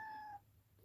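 A pet cat lets out one brief, soft, tonal meow that fades within half a second, close by in a quiet room.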